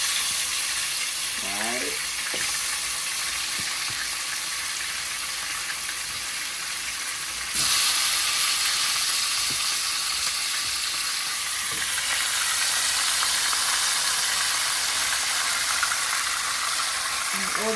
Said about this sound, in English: So you start by frying the meat first.